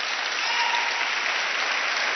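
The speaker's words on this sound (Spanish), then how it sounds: "Si le va a aplaudir, apláudale" A church congregation applauds during a sermon, a loud, unbroken wash of many hands clapping together at an even level throughout, with no voices on top.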